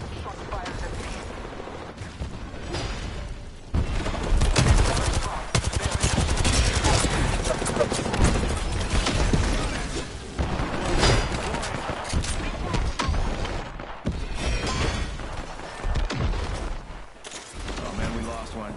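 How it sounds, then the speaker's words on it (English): Rapid gunfire from an Apex Legends match, with dense bursts of automatic shots and clattering mechanisms that run almost without a break and are loud and close. Game voice lines come through at times. "Shot fired at me."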